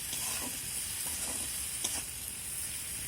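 Potato and pumpkin, already mostly cooked through, sizzle in a pan after a splash of water is added, while a spoon stirs them in a few soft, repeated scrapes over the steady hiss.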